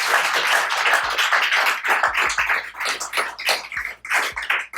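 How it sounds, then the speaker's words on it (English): Audience applause at the close of a Q&A at an entrepreneurship and marketing event in Japan, a brief burst of close, loud clapping from a small crowd that rises and fades in uneven waves. "Let's all give a warm round of applause,"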